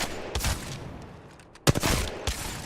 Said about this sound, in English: if you hold it, it will shoot one shot with the Mozambique